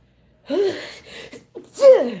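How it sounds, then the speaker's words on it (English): A single sneeze bursts out, quickly followed by a second sharp sneeze after a short pause, both close and loud. "Got me sneezing."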